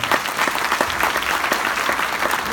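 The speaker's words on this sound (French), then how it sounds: "On peut l'applaudir encore très très fort." A conference audience claps loudly and steadily, a thick, continuous round of applause from a full room with no break.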